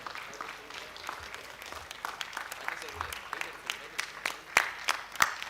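Applause at an awards ceremony as Colonel Ashish Tandon is honored. Scattered claps build into firmer, louder bursts toward the end, with faint talk underneath.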